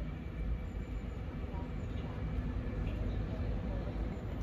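An LNER passenger service from Aberdeen to London King's Cross, unit 800106, passes through Cramlington station with a steady, close, broadband rumble and roar that holds at an even level throughout.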